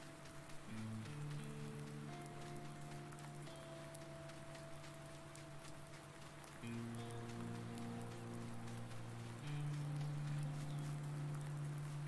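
Steady rain hiss falls across a farming video game map, with sustained low tonal music or engine-like drones layered underneath throughout and no talking.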